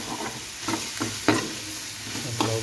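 Chicken frying in a pan for a Chinese-style chicken soup, with a steady close sizzle and several clacking stirs at irregular intervals.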